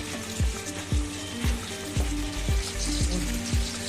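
Green grape pickle bubbling and sizzling in a pot as sugar is stirred in, with a steady hiss broken by regular low thuds about every half second from the stirring strokes.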